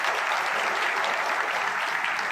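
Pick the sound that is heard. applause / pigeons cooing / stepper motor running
applause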